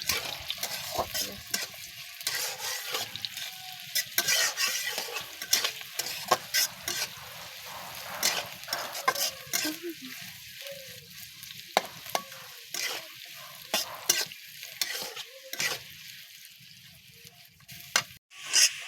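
Onions and duck meat sizzle in oil as a spoon stirs and scrapes the pan, with frequent clinks and scraping strokes over a steady frying crackle, close and fairly loud throughout.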